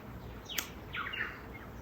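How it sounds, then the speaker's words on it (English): Birds in a rainforest give brief chirps and a short trill over a faint, quiet ambient background, sounding a little distant. "You Never heard all these bird sounds"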